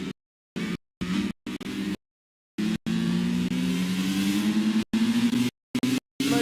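Onboard MotoGP motorcycle engine at a sustained high-revving scream down a kilometre-long back straight at the Americas circuit, loud and close, with the feed cutting in and out in repeated gaps.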